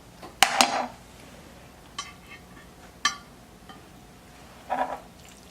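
Spoon scraping and clinking against a dish while filling is packed into stuffed peppers, a few brief knocks and scrapes spread apart, close and moderately loud, with no talking.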